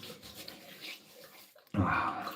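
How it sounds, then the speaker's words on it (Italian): Water splashes as a face is rinsed before shaving, with soft rubbing and dripping sounds, then a louder burst of running water toward the end. "sciacquo il viso"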